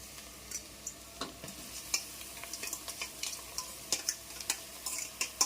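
Boiled potatoes stirred and frying in a pan with turmeric for a potato fry, a soft steady sizzle broken by frequent light scrapes and clicks of a spoon against the pan, close by, with no talking.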